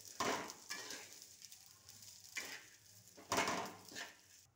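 Washed and dried rice is stirred into a frying pan for fried rice, giving quiet bursts of scraping and sizzle at irregular intervals, close but faint, with no speech.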